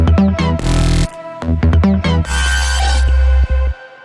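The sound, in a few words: drop pad layer, a processed bounce of the vocal layer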